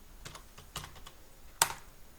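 Text being typed on a computer keyboard while filling spreadsheet cells, a few scattered soft keystrokes followed by one sharper, louder key press near the end.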